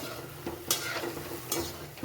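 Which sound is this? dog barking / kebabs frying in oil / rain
kebabs frying in oil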